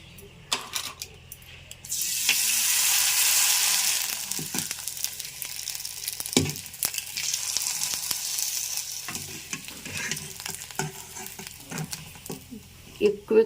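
Large rice flour vadiyalu crisps frying in hot oil, a bright hissing burst followed by crackling sizzle and stirring clinks, with a person talking over it.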